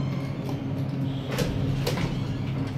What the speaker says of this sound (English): Oh yeah, they jammed the door interlocks.